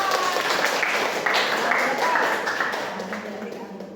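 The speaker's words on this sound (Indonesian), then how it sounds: "Tepuk tangan dong" Students clapping together in a classroom during a teaching practice lesson, a steady wash of hand claps that lasts the whole stretch and thins toward the end, with voices mixed in.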